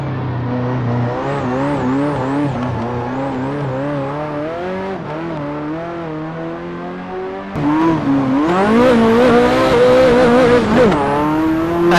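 A mid-engine Ferrari F40 drifting, its engine revving in steady, wavering tones that climb sharply near the end with high tire squeal; loud and close, with no talk.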